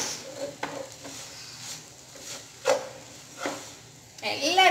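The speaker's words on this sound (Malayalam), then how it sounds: "എല്ലാം കൂടെ ഇട്ടിട്ടൊന്ന് മിക്സ് ചെയ്തെടുക്കാം" Chicken kothu porotta is stirred and mixed in a pan with soft scrapes and knocks at an irregular pace under faint sizzling, and a voice rises at the end.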